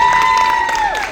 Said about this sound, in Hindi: प्लीज पहले आप सबके लिए जोरदार तालियां